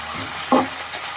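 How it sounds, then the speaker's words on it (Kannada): Onions sizzle steadily in a pan, with one brief louder scrape of stirring midway. "ಇದು ಚೆನ್ನಾಗಿ ಫ್ರೈ ಆಗ್ತಾ ಇದೆ."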